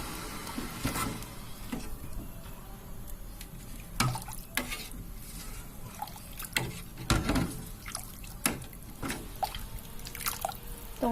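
A spoon stirs tekwan shrimp broth with yam bean and wood ear mushrooms in a pot, giving irregular wet clinks, drips and sloshes at close range while the liquid simmers gently underneath.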